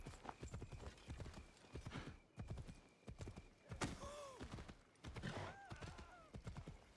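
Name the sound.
horse galloping in video game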